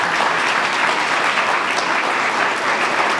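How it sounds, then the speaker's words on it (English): Loud, sustained applause from the audience at a police recruit class graduation ceremony, honoring the academy staff, with dense, even clapping throughout and no talking. "please give them a round of applause"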